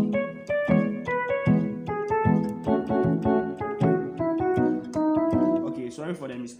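Keyboard plays a Ghanaian gospel highlife chord passage in F, a run of bright plucked-sounding notes and chord stabs in a steady, fairly loud rhythm, up close with no talking.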